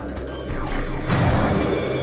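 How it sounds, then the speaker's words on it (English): Thermal visor switching on in the video game Metroid Prime, a mechanical whirring activation effect with a louder swell partway through, heard over game music and ambience. "The sound of the visor."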